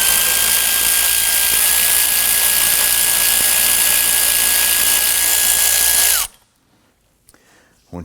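Power tool loosening the radiator bolts on a 2015-2024 Nissan Murano 3.5L V6, a loud, close, high-pitched steady whine for about six seconds that stops abruptly, followed by near silence and faint clicks.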